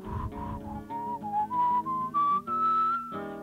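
A person whistles a short rising tune, clear and close, a run of separate sustained notes climbing in pitch over a few seconds.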